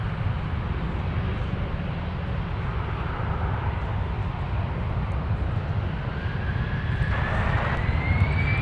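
Heavy jet airliner departing Minneapolis–St. Paul airport, using most of the runway before lifting off; a broad, steady roar of engines holds throughout at strong level, with a rising whine emerging near the end.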